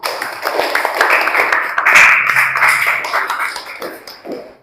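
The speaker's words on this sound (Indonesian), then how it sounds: "beri aplaus untuk kelompok 3" A classroom group applauds after group 3's presentation, a sustained burst of clapping that swells and fades over a few seconds, with a few stray taps and faint voices at the end.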